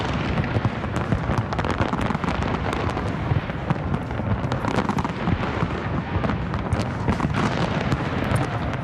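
New Year's Eve fireworks burst continuously in a dense, loud barrage of overlapping explosions and crackles on a live stream, with no pauses.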